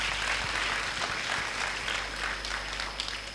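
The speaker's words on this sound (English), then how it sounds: "Give one round of applause for her." A short round of applause from a crowd at a yoga festival, continuous and fairly loud over a constant low hum from the room.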